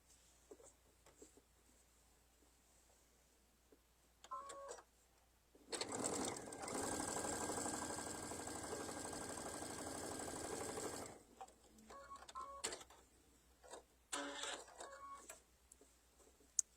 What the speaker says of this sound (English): So we'll sew these two together.